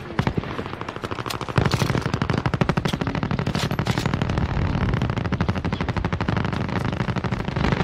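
A 100-round gun fires in Call of Duty Warzone in a long, loud, continuous machine-gun stream of rapid, evenly spaced shots that runs almost without a break.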